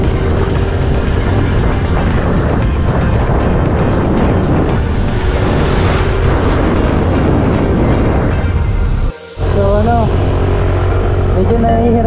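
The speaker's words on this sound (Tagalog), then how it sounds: "Medyo nahihirapan yung makina niya sa akyatan." Yamaha Mio Gear S 125cc scooter labouring up a steep hill, its engine droning steadily and loudly under heavy wind rush, with a brief dropout near the end before the engine note returns.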